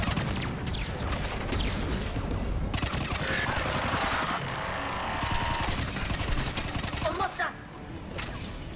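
Incendiary-ammo gunfire in Mass Effect 3 rattles in rapid, sustained bursts of automatic shots with short pauses between strings, loud and close, ending in a few scattered final shots.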